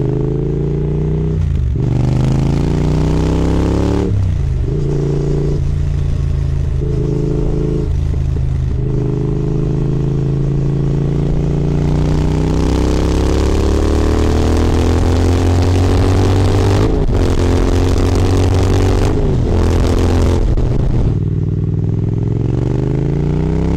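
A Triumph motorcycle rides toward the motorway, its engine roaring loud and close as it revs and accelerates through the gears, pitch climbing with brief dips at each shift.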